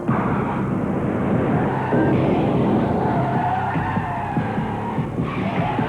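A BMW 528e brakes hard with anti-lock brakes, its tires skidding and squealing in a loud, continuous screech over steady road noise, heard alone without talk.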